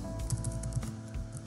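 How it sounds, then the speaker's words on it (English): Keys clatter on a computer keyboard as a password is typed, a short run of quick, light, uneven clicks close by with a faint steady hum underneath. "you type in your password"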